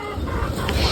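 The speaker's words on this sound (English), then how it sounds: "And the rooster, there's the other one." A farm rooster, one of two, gives a brief, close call lasting about a second.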